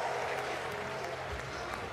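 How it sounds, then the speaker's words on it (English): Crowd applauding a college baseball player's curtain call at Dick Howser Stadium during a Florida versus Florida State game, a steady, fairly distant wash of clapping and crowd noise held throughout under a faint broadcast murmur. "As Tibbs gets a curtain call from the crowd here at Dick Howser Stadium"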